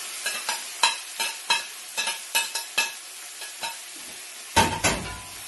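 Mixed vegetables frying in a pan are stirred with a utensil, giving a series of sharp scraping taps in irregular rhythm over a faint sizzle, close and fairly quiet.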